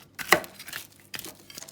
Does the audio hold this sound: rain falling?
no